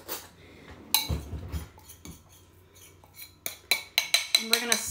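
Spoon scraping farm fresh egg yolks from a bowl for pasta carbonara, quiet scrapes giving way to a run of rapid bright clinks of metal on dish, close and alone.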